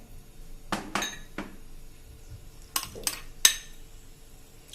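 Crushed peanuts, crushed ganthiya, raisins and cashews are added to a cooking pot in a series of sharp metallic clanks and clinks from a spoon striking the pot, several isolated hits spread over quiet pauses, close by.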